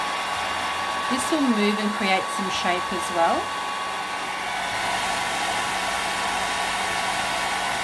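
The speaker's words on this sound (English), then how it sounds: "I'm going to actually shoot a little bit of hot air onto it, so excuse the noise." A hair dryer blows hot air onto a drying watercolor flower painting, a steady airy whoosh that runs throughout, with a person speaking briefly over it near the start.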